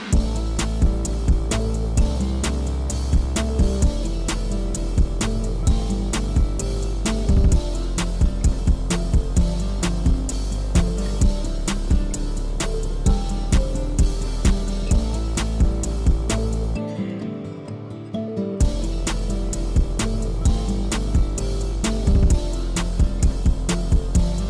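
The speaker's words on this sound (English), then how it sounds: "we have the original cymatics fill over here, going back into the last hook" A Cymatics drum fill leading back into the last hook of a dark lo-fi production, with steady punchy hits over a sustained low bass, a brief near-silent gap, then the beat driving on.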